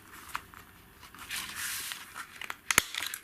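Paper being creased and folded on a folding board while cutting an envelope or card box, giving soft crinkling and rubbing rustles that build in the middle, then a few sharp crackling snaps near the end.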